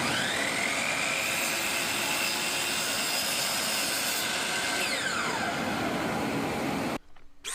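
A Dremel rotary tool cuts a square opening in an MDF sheet, a loud, steady high-pitched whine with grinding underneath that holds for about seven seconds before cutting off abruptly.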